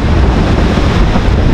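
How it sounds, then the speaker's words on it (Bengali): Strong wind blasting across a microphone beside the river in Phnom Penh, a loud, continuous low roar with steady gusting buffeting and no voices. "অনেক বাতাস"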